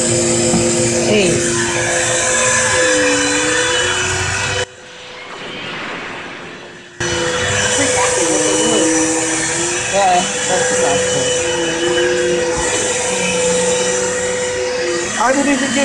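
A vacuum cleaner drones steadily at close range, a loud continuous motor whine with a brief drop in the middle, while excited voices shout and talk over it throughout.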